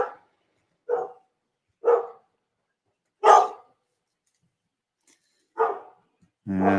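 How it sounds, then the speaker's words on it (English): Dogs bark in a steady sequence of six or so single, mid-pitched barks roughly a second apart, clear and isolated against silence. "And barking dogs."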